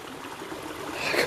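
A small stream of water flows across a walking path on a morning Thanksgiving walk, a steady nearby trickle that swells slightly louder toward the end.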